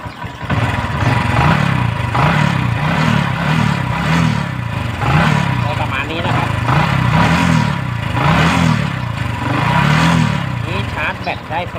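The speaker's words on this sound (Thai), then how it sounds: "ติดเครื่องยนต์อยู่นะครับ" A Honda Wave 125i motorcycle engine running steadily up close, its low chugging drone pulsing in a regular rhythm without letting up.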